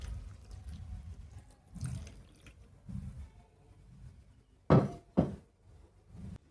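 Puja water is poured onto a money plant, giving soft splashing bursts and trickles between quiet gaps, with two sharper splashes near the end, faint and close.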